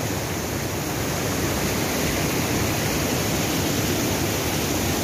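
Cachoeira do Juí, a waterfall on the Macaé river, pours with a constant, dense rushing hiss that holds evenly throughout with no voices.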